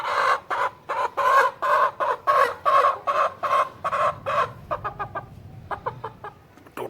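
Shamo chickens cluck in a quick series of short, sharp calls, loud and near, growing briefer and more spaced toward the end.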